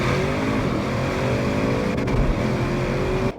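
2025 Audi RS6 Avant GT running with a steady deep engine drone and rising harmonic tones as it accelerates, loud and close throughout before cutting off abruptly at the end.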